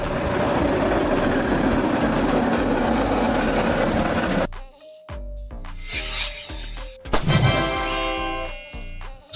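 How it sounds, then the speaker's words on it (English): A city streetcar runs on rails, first a dense steady rumble of wheels and motor, then after a sudden cut a sparser stretch of rhythmic clicks, brief tones and a rising metallic screech, fairly close and loud. "streetcars are city trams running on streets"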